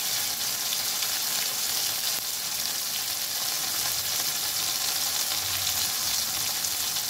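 Foloi fish curry with tomato fries in a pan over a very low gas flame, giving a steady, close, continuous sizzle with faint stirring scrapes and no talking.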